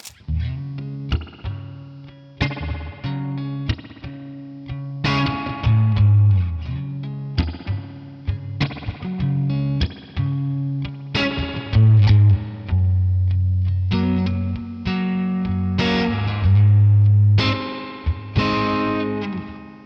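Divided by 13 FTR 37 boutique tube amp with its short-pan spring reverb, 6V6 power tubes: a distorted electric guitar plays chords and single notes, each attack trailing a springy reverb wash, loud and continuous with no talk.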